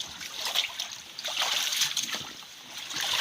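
Floodwater from Typhoon Kristine in Bicol, faint splashing, trickling and sloshing close by, steady for a few seconds with small irregular spatters.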